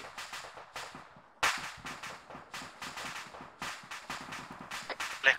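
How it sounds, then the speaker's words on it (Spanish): Rapid bursts of gunfire in the video game Arma 3, sharp cracks firing in quick irregular volleys without pause, loud and close. "Le escucho tiros, pero no sé de dónde"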